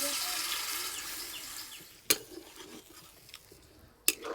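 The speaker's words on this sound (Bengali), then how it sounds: "সিদ্ধ হওয়ার জন্য জল দিয়ে দেবো।" Water runs and splashes into a pot of chicken curry with new potatoes, a steady rushing pour for about two seconds. Then come a couple of sharp knocks and quieter clatter.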